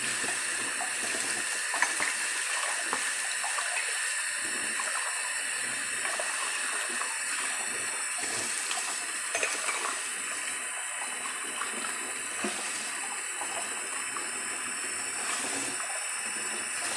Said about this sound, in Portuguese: torneira faz um barulho, porque a água tem bastante pressão.